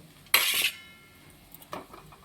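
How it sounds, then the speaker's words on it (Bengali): Cooked food scraped from a pan onto a plate, one sharp loud metallic clatter followed by a fainter clink a second later, close and alone. "এই যে এবার আমি থালাতে নামিয়ে নেব।"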